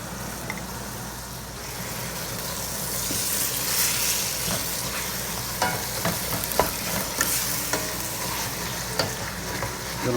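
Onions browning in a big pot of meaty, bean-filled chili give a steady close sizzle, with repeated scraping clicks and knocks from a spoon stirring through the pan.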